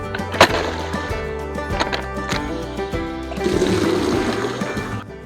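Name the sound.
breaking up ice in the goats' water bucket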